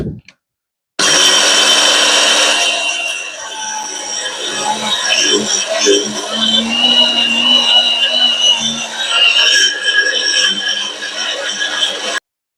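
A mixer grinder whirs loudly and steadily, grinding soaked red rice into flour, the motor roar holding from start to finish with a brief quieter gap at the very beginning.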